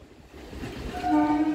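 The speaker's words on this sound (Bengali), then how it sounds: "বাগনান হাওড়া লোকাল টিকিয়াপাড়া ঢুকছে" A Bagnan–Howrah local train rolls into Tikiapara station with a low rumble, then its horn sounds clearly near the end.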